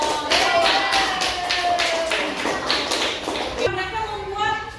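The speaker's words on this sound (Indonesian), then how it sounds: "tepuk tangan untuk kelompok" A Grade 6 elementary school class claps for a group in rhythmic, evenly spaced bursts that fill the room, with children's voices and a tonal voice line carrying over the clapping.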